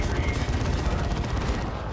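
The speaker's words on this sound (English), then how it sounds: "That's a singularity from the D cannon." A singularity blast from a D-cannon in Dawn of War 2 lands amid a dense, continuous roar of gunfire and explosions during a 3v3 multiplayer battle, loud and unbroken throughout.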